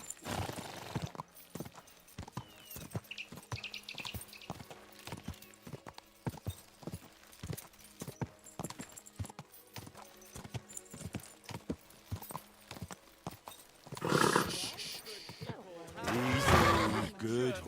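A horse in Kingdom Come: Deliverance II walks with a steady, close clip-clop of hooves throughout, then gives two loud neighs near the end; a voice speaks over the hoofbeats.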